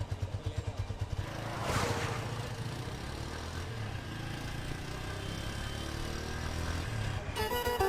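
Motorcycle engine running steadily while riding, a low rumbling drone with clatter throughout, briefly rising in a swell near the two-second mark and continuing under road noise to the end.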